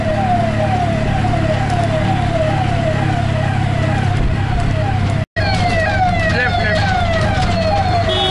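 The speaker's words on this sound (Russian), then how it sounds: "Что-то где-то, то ли полиция, то ли скорая." Police or ambulance siren on a street in Jaipur, India, wailing in rapid repeated sweeps at moderate distance over steady traffic and engine rumble, with a brief dropout partway through.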